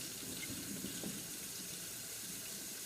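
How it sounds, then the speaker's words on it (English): Hot water runs steadily from a kitchen tap into a container for kefir water soda, a constant close splashing rush with no pauses. "I get pretty hot water out of the tap."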